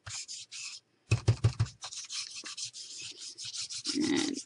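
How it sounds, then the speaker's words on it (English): Tea dye distress stain being rubbed over a kraft card background with a resist stamp, brisk scratchy rubbing strokes in short bursts, close and fairly loud, with pauses between passes. "give it a rub over the background"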